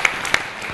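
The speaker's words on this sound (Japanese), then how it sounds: "拍手。" Short burst of audience applause at a live athlete event in Sendai featuring a road bike demonstration, with a couple of sharp claps standing out over a dense spread of hand-clapping, fairly loud.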